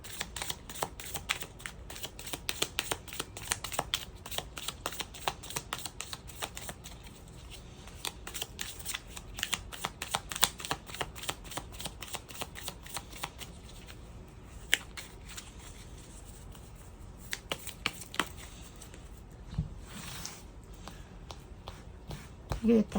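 Tarot cards being shuffled and spread out by hand in humid, warm weather: dense runs of crisp riffling clicks and slaps continue throughout, with occasional quiet talk underneath.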